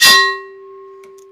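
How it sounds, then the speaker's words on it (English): A single bright notification bell ding rings out loud and alone, striking sharply and then leaving a clear metallic tone that slowly fades. "hit that notification bell"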